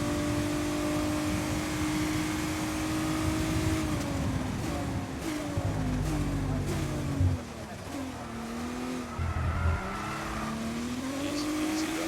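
Formula 1 car engine in the F1 22 racing game at Brazil or Abu Dhabi, a loud high-pitched whine holding steady, then dropping through downshifts under braking and climbing again on exit, with a faint tyre squeal.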